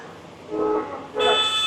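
Vehicle horns honk in busy Mumbai street traffic: two short, close toots in a row, the second louder and brighter, over a low hum of traffic.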